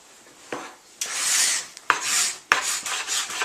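Hand scrapers drag across a hardwood floor being distressed, giving several long rasping strokes in a loose rhythm, close and fairly loud, with no talking.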